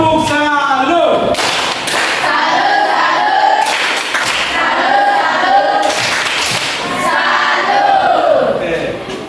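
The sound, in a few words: class clapping a salute clap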